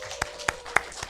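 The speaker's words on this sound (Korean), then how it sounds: "박수 한번 쳐요" A church congregation gives a short round of applause during Sunday worship, a few sharp, spaced claps heard close over a quiet room.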